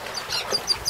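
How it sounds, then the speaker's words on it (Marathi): Birds call at Nandur Madhyameshwar bird sanctuary, a few short, faint calls repeating at an even pace over quiet, peaceful outdoor background. "पक्ष्यांचा आवाज येतोय"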